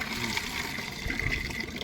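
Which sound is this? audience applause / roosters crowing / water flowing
water flowing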